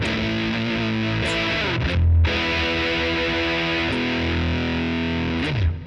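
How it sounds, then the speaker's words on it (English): Electric guitar played through a JHS Kilt fuzz pedal, thick distorted sustained chords with heavy bass, ringing steadily with brief breaks and a swap to a second fuzz tone. "a way to get another style of fuzz and get two different fuzz tones out of the kilt"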